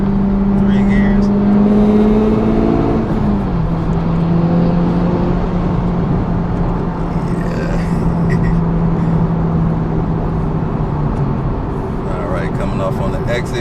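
A Honda Civic Type R FL5 dropping three gears and accelerating hard on a Michigan road, heard from inside, the engine note rising loud and strong, briefly dipping at a shift, then climbing again.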